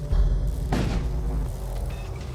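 Storm cannons fire in the space combat game Void War, one deep booming thud followed by a rolling rumble against a steady low drone of game ambience.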